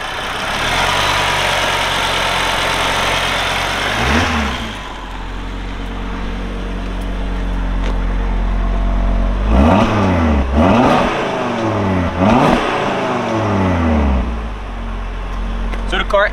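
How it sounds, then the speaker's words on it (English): A 2022 Audi RS3 Sedan idles loudly at a raised speed in dynamic mode, then is blipped through several quick revs that rise and fall, each burst distinct over a deep rumble, with a person talking underneath. "the car actually sounds a lot louder if you put it into dynamic, and the idling speed is also a lot higher"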